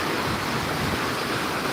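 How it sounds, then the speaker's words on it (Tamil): Sea waves crash at Gandhi Beach, Pondicherry, a dense, continuous roar of surf that stays loud and even throughout, with no voices. "ஒரு அலை அலை சீற்றத்தை பாருங்கள் வேறு லெவலில் அலையோட சீற்றம் இருக்குது"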